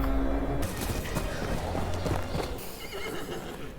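Horses neigh and whinny while hooves clip-clop and thud close by, loud and busy, mixed with other scene sounds.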